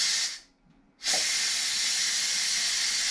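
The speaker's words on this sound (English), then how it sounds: "we are going to depressurize the pot because it's a quick release" Loud steady steam hiss from an Instant Pot on quick release while a pot roast cooks, briefly cut off near the start, then roaring back and holding strong and continuous with no voices.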